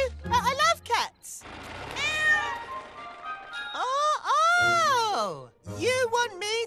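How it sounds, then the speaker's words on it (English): A cartoon kitten meows repeatedly in high, wavering cries near a bridge, with short pauses between the calls. "Come here, little kitty."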